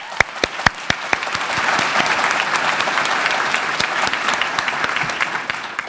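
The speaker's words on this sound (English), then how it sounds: "let's give them all a round of applause" An audience applauds at the 2019 LBJ School graduation ceremony: a steady wash of many hands clapping in a large room, with a few sharp, close claps standing out near the start.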